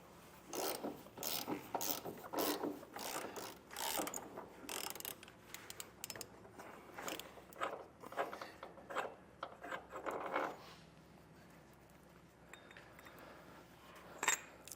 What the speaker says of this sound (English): We're going to take a 13/16 socket and remove the body mount bolt.